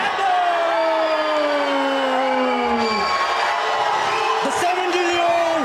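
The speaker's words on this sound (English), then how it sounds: "we hear a couple of boos in the crowd" A crowd at an amateur MMA fight in Nepal boos after a unanimous decision, with long falling low-pitched jeers over a constant loud crowd roar and voices mixed in.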